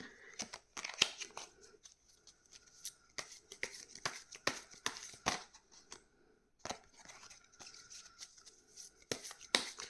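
Tarot cards drawn and shuffled during a pick-a-card reading, giving crisp repeated riffling and snapping bursts in irregular clusters, close and moderately loud with quiet gaps between.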